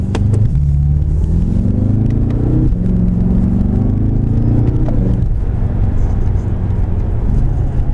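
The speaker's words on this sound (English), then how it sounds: "You can hear the turbo spool." Turbocharged engine of a 2015 BMW M5 30 Jahre heard from inside the car, loud low rumble with rising whirring tones as it accelerates through gear changes.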